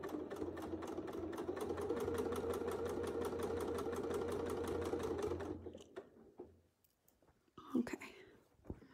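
A sewing machine stitching steadily along a line during free-motion quilting, its rapid even needle rhythm running close and loud for several seconds, then stopping, followed by soft handling sounds and a brief quiet voice.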